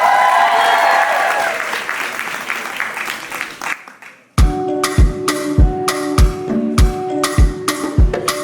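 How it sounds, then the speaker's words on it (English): An audience at a college African Students Association fashion show cheers and applauds loudly, then the clapping fades out. Strong rhythmic beats of music follow in the second half, with cheering voices mixed in. "Make some noise, ladies and gentlemen."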